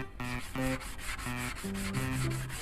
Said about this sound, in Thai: เขาจะขัดไปเรื่อย ขัดจนกว่ามันจะไล่รอย ที่เราขูด เป็นรอยขูด เป็นรอยชั้นๆเนี่ย ต้องขัดให้มันออก